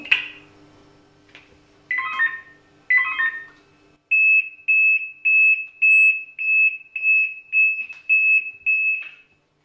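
A fire brigade dispatch centre sends its alerting tone: a few warbling opening chirps, then a steady run of about a dozen loud, evenly spaced electronic beeps, with no voices.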